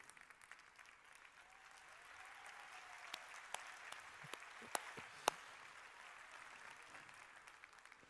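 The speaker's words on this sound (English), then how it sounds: "Please help me give another round of applause to CC Tennille performance and our talented performers." Applause from an audience for performers at a State of the County address, soft and distant clapping that swells gradually, with a few sharper individual claps standing out.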